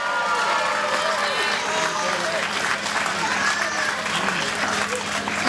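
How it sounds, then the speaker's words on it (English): An audience at an outdoor chilli-eating contest applauds the competitors, with steady, dense clapping running throughout and a few voices calling out over it. "let's have a bit of a round of applause to the competitors"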